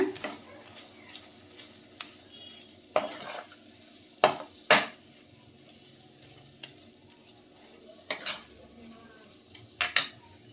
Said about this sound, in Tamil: இந்த மாதிரி தக்காளியெல்லாம் நல்லா மசிச்சு விட்டுருங்க